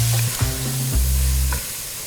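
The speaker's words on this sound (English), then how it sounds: "we're just gonna saute this up until those leeks are nice and softened" Leeks sautéing in a pot give a steady, close sizzle with a few stirring scrapes, over a low hum that shifts in pitch.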